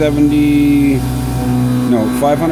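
A milling machine cuts metal at 40 inches a minute feed with a 400 thou depth of cut, giving a loud, steady tonal drone with stacked harmonics that wavers and shifts pitch slightly toward the end.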